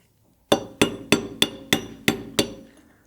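A punch is hammered to drive the slide out of a Vicmarc lathe chuck held in a vise with soft jaws. Seven sharp, close metallic strikes land in an even rhythm, each ringing briefly.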